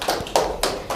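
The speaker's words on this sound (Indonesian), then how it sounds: "Oke, beri tepuk tangan untuk kelompok" Classroom applause for a student presentation group, a few sharp claps spaced at regular intervals, close and moderately loud.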